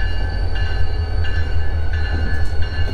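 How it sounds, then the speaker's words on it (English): Train of the Aberdeen and Rockfish Railroad rolling past in Aberdeen, North Carolina, with a steady low rumble of moving cars and squealing metallic tones, fairly close and continuous, no talking. "Yeah, there goes the train."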